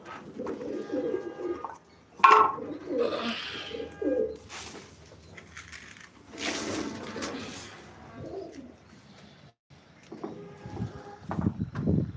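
Pigeons coo in low, rounded bursts, with several birds calling on and off nearby, interrupted by brief quiet gaps, during rainy weather.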